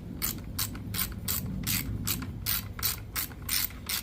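A ratchet clicks rhythmically while tightening a part on an ECHO SRM-2620 string trimmer, a steady series of about a dozen close, crisp pawl clicks at an even pace.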